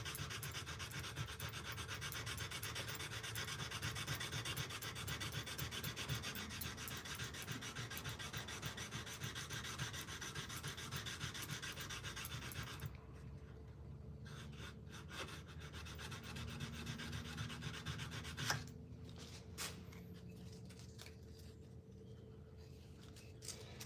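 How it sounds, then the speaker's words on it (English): A wooden carving-tool handle is sanded by hand with 220-grit sandpaper, giving a close, continuous, rapid scratching rub that runs on and on and turns quieter and patchier partway through. "I was sitting there sanding with it, complaining about how long it was taking."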